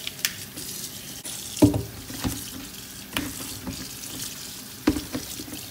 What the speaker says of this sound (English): cauliflower. And we're gonna wash it.